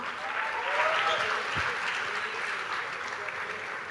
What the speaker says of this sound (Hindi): ओके जोरदार ताली एवरीवन,